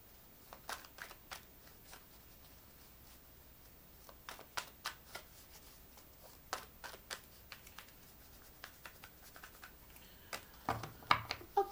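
Gilded Tarot cards shuffled during a reading, soft papery riffles and sharp clicking card snaps in irregular bursts, close and quiet, ending in a denser flurry.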